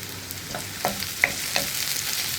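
Spice powders heating in oil for a one-pot cauliflower masala, a soft continuous sizzle with a few light clinks and scrapes of a spoon stirring the pan, close by and with no talk.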